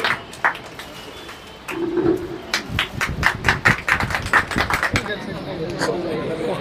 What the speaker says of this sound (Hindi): एक तालियों के साथ